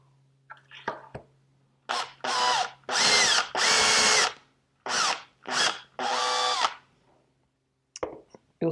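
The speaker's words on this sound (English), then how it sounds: "The bit here is long enough that I can drill in and without having to take the body off." A power drill with a long bit drills into wood while making a furniture leg plug, in bursts of whining motor and cutting noise that start and stop several times with short pauses between, close and clear.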